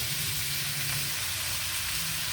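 Pork belly frying in its own rendering fat in a pan, a steady soft sizzle and crackle close by with no talking.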